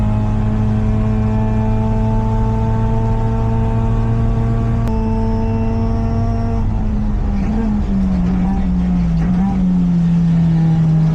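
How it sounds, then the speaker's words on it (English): Mazda Miata ND endurance race car driving at speed, its engine a loud steady drone with a smooth, even tone and no vibration, dropping in pitch partway through as it shifts or slows. "I'm going to show some footage, and you can hear that the car is no longer vibrating because the sound resonance"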